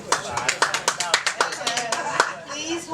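A handful of people at a school board trustee candidate forum clap in a sparse, uneven rhythm, sharp separate claps heard close over a faint murmur.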